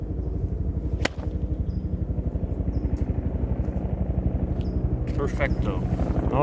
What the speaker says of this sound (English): now we have a helicopter coming through